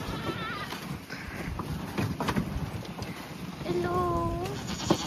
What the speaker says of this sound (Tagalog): Ay, may kasabay kaming kambing.